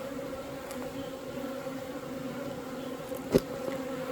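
Bees outside their hive hum in a steady, low-level drone, with one buzzing insect passing close to the microphone briefly near the end, and no voices are heard.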